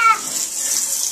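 Tap water gushes in a steady, close hiss while a flea-covered cat is bathed in cool water, with a brief squeal-like sound at the start.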